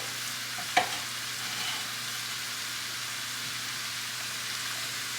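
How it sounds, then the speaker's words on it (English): Chopped shallot and mushroom stems sauteing in a pan on medium-high heat, a steady, even sizzle with one brief clink of a utensil near the start. "this is going to saute on a medium-high heat, just until the stems are softened."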